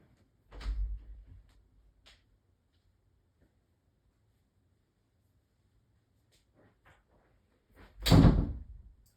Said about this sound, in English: I heard that loud closing of the door